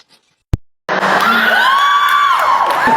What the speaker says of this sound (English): Please stop yelling.